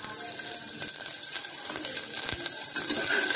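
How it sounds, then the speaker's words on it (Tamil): Steady crackling sizzle of onions frying in oil, with occasional stirring scrapes, continuous and close, no talking. "நல்லா வெங்காயத்தை வதக்கிக்குவோம்."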